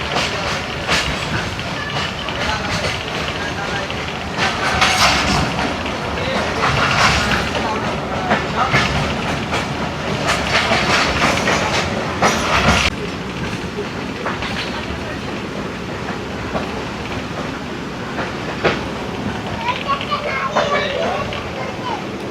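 The Sukkur Express rolls along its rails near Rohri in roughly 52°C heat with a continuous rumbling clatter and rhythmic wheel knocks, while people talk over it.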